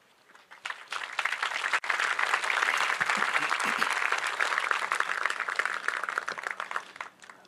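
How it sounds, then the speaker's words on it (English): An audience at a military change of command ceremony breaks into sustained applause, many hands clapping steadily throughout, heard from a slight distance in an open venue. "that applause is not because I'm about to talk"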